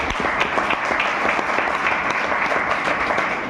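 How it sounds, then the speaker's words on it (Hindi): At a company event in a hall, an audience breaks into sustained, dense applause, many hands clapping together at a steady, fairly loud level for the whole stretch. "मैं चाहूंगा कि एक जोरदार ताली होनी चाहिए"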